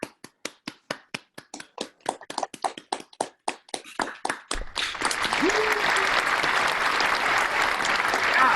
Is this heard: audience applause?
yes